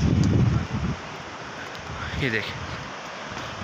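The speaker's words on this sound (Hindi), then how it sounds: "और अब ठंडी हवा चल रही है" Cold wind blows near the Umbrella Waterfall in Abbottabad, a steady, loud, broad rush that continues throughout, with a voice briefly speaking near the start and another short vocal sound midway.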